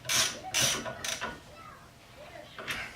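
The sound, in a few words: wrench torquing down brake parts on a 2002 Ford Focus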